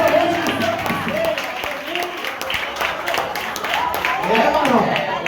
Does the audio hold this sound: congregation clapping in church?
yes